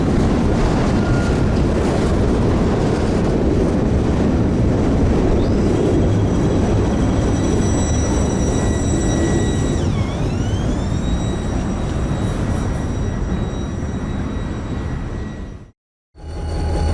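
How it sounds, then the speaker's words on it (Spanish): Diesel freight locomotive engines, EMD SD-42 units in a rail yard in Torreón, Mexico, work with a loud, steady low rumble and a droning whine that shifts in pitch, then briefly cut out near the end. "escuchar trabajar los motores de las legendarias SD-42"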